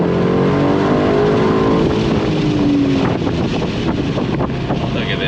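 An Aston Martin DB12 Volante, the 2024 convertible, accelerates hard from a standstill using launch control, a loud sustained engine roar mixed with heavy wind rush. A voice is faintly heard beneath the noise.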